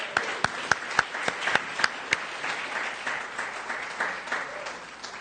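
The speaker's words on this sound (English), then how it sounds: "Let's give her another round of applause." Audience applause at a church Black History Month celebration, with sharp individual claps standing out near the front over a steady wash of clapping from the crowd that carries through to the end.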